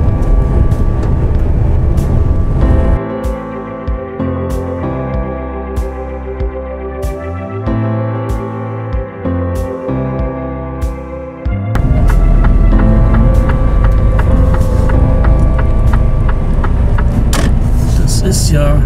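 Truck tractor driving solo without a trailer, producing a loud, continuous engine drone that shifts in pitch as it goes, with some speech-like sound mixed in.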